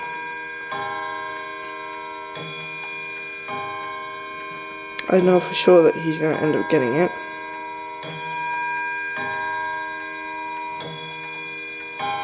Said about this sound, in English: I think the clock's trying to tell us something over there.